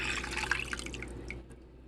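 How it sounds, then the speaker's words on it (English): Liquid is poured into a dog's kibble bowl, a close trickling splash with soft drips that thins out and fades toward the end. "So we just pour it in here."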